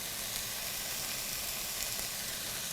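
Chicken for fajitas browns in a pan over medium heat, giving off a loud, even sizzle with a steady hiss that holds without pause throughout.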